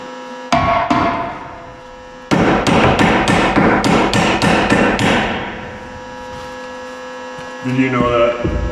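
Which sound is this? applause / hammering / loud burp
hammering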